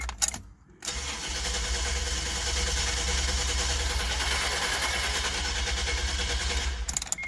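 A 1994 Isuzu Rodeo engine cranks over on the starter with its ignition coil unplugged, so it never fires; a steady, even, loud rhythmic churn runs for about six seconds after a brief pause at the start.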